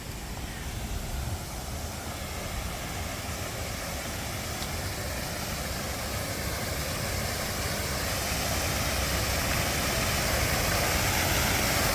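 Waterfall at Cannon Mill in the Chess Valley gives a steady, continuous broadband rush of falling water, close and unbroken, swelling slightly louder toward the end.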